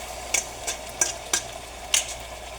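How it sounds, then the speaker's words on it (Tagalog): A whole chicken cooking in a pan for a simple chicken curry, with steady sizzling under five sharp scrapes of a stirring utensil at uneven intervals, close and clear, no talking. "we put the chicken. One whole chicken pong ilalagay ko"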